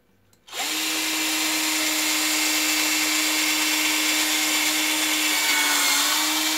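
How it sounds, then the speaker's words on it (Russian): A power drill starts abruptly and runs at a loud, steady whine while drilling out a bolt hole for a jewelry stand, holding nearly constant pitch throughout. "если не проходит, можно немножко его высверлить"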